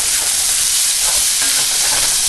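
Onions and garlic sizzle in about a tablespoon of olive oil in a hot pan, a dense, steady hiss and crackle that stays loud and close throughout.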